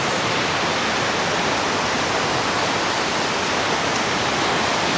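A waterfall near Chiang Mai, Thailand, rushes in a loud, unbroken roar of falling water close by, with no other sounds.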